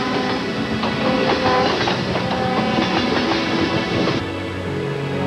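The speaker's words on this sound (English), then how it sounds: "You may not see it, but the train is there" A train rolls along railroad tracks, a loud, steady, close rumble of wheels and cars with rhythmic clickety-clack and faint metallic squeals throughout.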